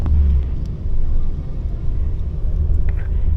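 A car drives past on a city street in Bosnia and Herzegovina, a loud, close low rumble of engine and tyres that stays steady throughout with no talking.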